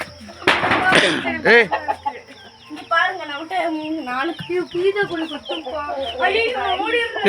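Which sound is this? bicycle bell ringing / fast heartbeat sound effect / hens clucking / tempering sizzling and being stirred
hens clucking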